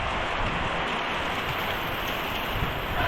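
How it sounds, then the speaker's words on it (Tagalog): Heavy typhoon rain pours down in a dense, steady hiss, constant and loud from start to finish with no voices. "sobrang lakas nga po ng ulan"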